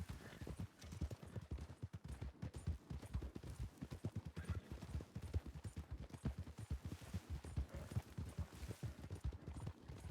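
Horses trot in a western roleplay video game, producing a quick, continuous clip-clop of several hooves, close and rhythmic throughout, with faint background game sound.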